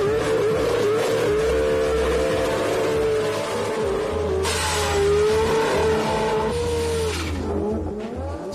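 Two identical 2002 Toyota Solara drag cars race, their engines roaring loud and steady with a tonal whine that bends in pitch as they accelerate, and some tire noise near the end.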